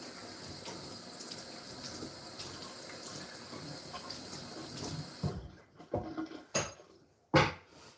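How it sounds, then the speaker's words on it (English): Tap water runs steadily into a sink as hands are washed, with a soft continuous splash that cuts off and gives way to a few faint clatters and knocks. "Just gotta wash my hands."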